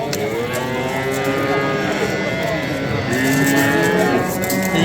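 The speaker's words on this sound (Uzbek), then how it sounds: "Mana sementalcha. Zotli mol, zotli buzoqchalar." Simmental cattle moo again and again at a busy livestock market, with long, loud, drawn-out calls close by over a steady crowd murmur.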